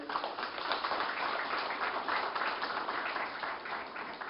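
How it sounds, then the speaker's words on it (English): An audience at the Make In India Awards 2017 summit gives a warm, sustained round of applause, dense and steady clapping from a large hall, moderately quiet and unbroken by talk. "let's give him a warm round of applause"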